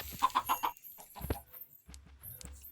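Minecraft chickens give a quick run of four clucks near the start, then sparser soft clucks and shuffling noises in a quiet game scene.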